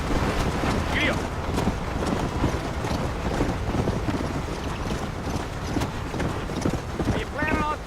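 Horse hooves clip-clop at a riding pace in Red Dead Redemption, a steady rhythmic patter mixed with wind and outdoor ambience while voices speak over it.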